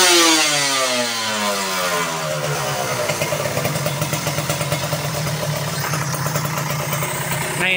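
Kawasaki Ninja motorcycle fitted with a PWK 34 Air Strike carburetor and stock manifold, revving hard from idle up toward high RPM, then holding a loud, steady, buzzing high-rev drone up close.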